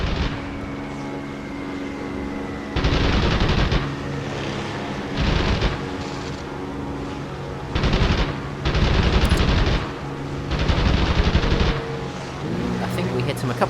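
Machine-gun bursts in the air combat game Wings of Prey, Spitfire against Stukas with rear-facing guns: several loud, rapid bursts a second or two long repeat over a steady aircraft engine drone, while someone talks between them.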